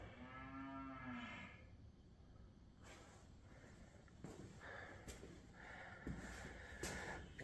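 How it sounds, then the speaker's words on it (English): Hungry cows mooing at breakfast time on a farm, several long low moos from near and farther off, overlapping across the stretch with quieter snorts and rustling in between. "Cows are a little hungry."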